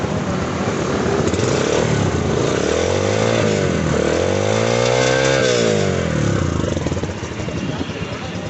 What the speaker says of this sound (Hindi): ठंडा इंजन बड़ा मज़े का साउंड देता है।